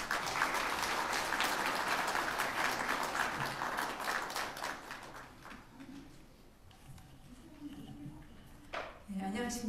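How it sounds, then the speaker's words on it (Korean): Applause fills the hall at the opening ceremony of a science and technology forum, strong at first, then thinning out midway before a speaker begins talking at the podium. "큰 박수 부탁드립니다."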